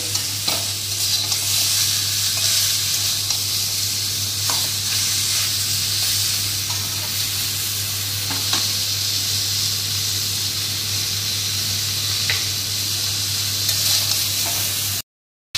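Hilsa fish head with vegetables frying in hot oil, a steady close sizzle with occasional stirring scrapes, continuous and loud without any voices.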